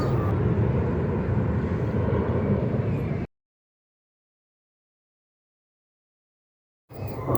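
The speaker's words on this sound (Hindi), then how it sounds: "फिर यहाँ फ़्लाइट्स जा रही थी तो मैंने उनको रिकॉर्ड किया" Emirates passenger jet passing overhead, a broad steady engine roar for a few seconds that cuts off abruptly, then resumes briefly at the end.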